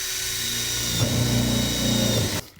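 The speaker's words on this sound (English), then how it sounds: "And we'll get those last rivets in there." A powered rivet tool whirs steadily and loudly while fixing rivets into insulated metal clad panels on a garden room, then cuts off abruptly near the end.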